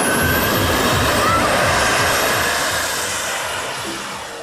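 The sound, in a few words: toy fighter jet making jet engine sounds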